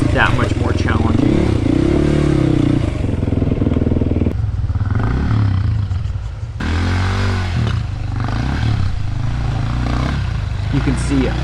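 A motorcycle ridden over large rocks in a riverbed in hot sun, engine loud and close throughout, revving and labouring with clattering and scraping, the pitch rising and falling as it climbs.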